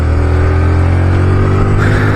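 A motorcycle engine drones loud and steady while overtaking other vehicles on a road between Mysore and Mudumalai, with strong wind rush and no talking.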